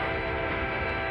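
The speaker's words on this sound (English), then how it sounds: "Got a loud horn" A loud, sustained EMD locomotive horn at Secaucus blaring steadily, a rich droning tone held for the whole moment with rumble underneath, from a limited train bound for Port Jervis.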